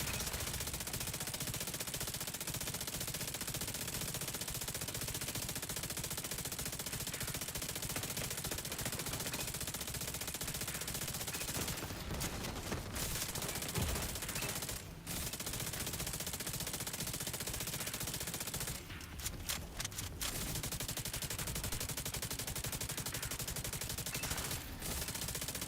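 Dense, sustained automatic gunfire from a video game rattles on almost without pause, loud and close, with a few brief gaps and sharper bursts breaking the steady barrage.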